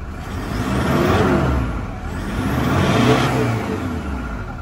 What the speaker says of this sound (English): Give it a bit of a rev for you.